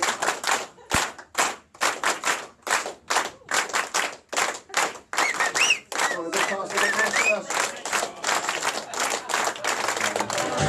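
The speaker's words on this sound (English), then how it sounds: "a big round of applause for the best man" Wedding guests clap for the best man, a dense burst of applause that swells and fades in waves, with scattered voices and cheers rising beneath it toward the end.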